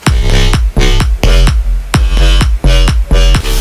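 Electric bass with a second layer of distortion from a Waves CLA Guitar plugin, playing a loud, punchy riff of short repeated notes with gritty upper harmonics and sharp gaps between hits.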